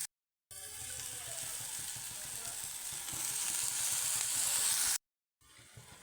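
Sprouted fenugreek seeds hit a hot pan with Kashmiri chili powder, giving a steady loud sizzle for several seconds that stops abruptly, then resumes more quietly.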